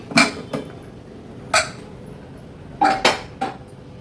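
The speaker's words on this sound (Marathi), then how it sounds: "कुकर गार झाला उघडून बघूया" A few sharp metallic clanks and clinks of a pressure cooker lid being handled and lifted, separated by short pauses, close by with no talking.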